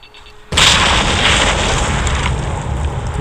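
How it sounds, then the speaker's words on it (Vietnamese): A loud explosives detonation in the survival zombie game Last Day on Earth bursts in after half a second of quiet and then rolls on as a heavy, sustained roar of blast and debris that fills the rest of the clip. "Chúng ta cùng đặt thuốc nổ đây nha các bạn."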